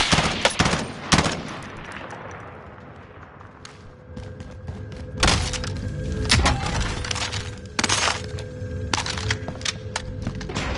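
Bursts of automatic gunfire and sharp single shots in Call of Duty Warzone trios play, loud and close at the start, then repeated volleys with thuds and cracks through the rest, over a steady game background.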